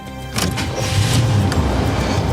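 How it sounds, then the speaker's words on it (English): A car engine runs at a loud, steady idle after a brief quieter moment at the start, with a dense continuous rumble filling the scene and no talk over it. "now keep the engine running"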